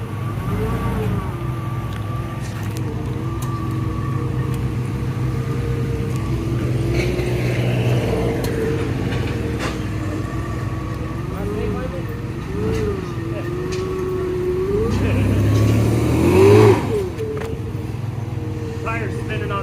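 A Ford Transit van engine idles steadily nearby, a low continuous hum with a slight swell toward the end, while people talk over it.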